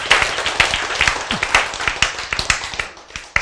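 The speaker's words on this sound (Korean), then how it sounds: "이럴 때 박수가 이 정도밖에 안 나온다는 것은 좀 문제가 있어요." An audience at a lecture claps in a steady patter of individual hand claps, fairly close and moderately loud, with no voices over it.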